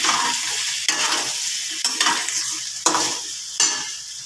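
Cut vegetables for Bengali shukto sizzle and fry in hot oil after ginger, with a spoon stirring in four or five distinct scraping strokes over a steady, close hiss.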